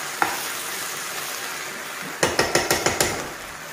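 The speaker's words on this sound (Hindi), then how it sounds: "तो उसको चलाते हुए हम इसे अच्छे से फ्राई करेंगे अभी मसाले को।" Masala fries in a pan with okra for a yogurt bhindi dish, a constant close sizzle, then a quick run of about six sharp metallic spoon taps and scrapes against the pan as it is stirred, with no voices.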